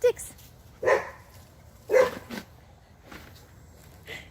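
Puppies barking outdoors in short, sharp yips and barks, about three loud bursts spaced a second apart, then softer ones, close by with people talking around them.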